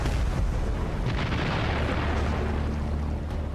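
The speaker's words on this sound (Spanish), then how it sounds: "se produce una explosión" A wartime explosion at a bridge in World War II footage, a heavy rumbling blast with sustained low roar and debris noise lasting several seconds.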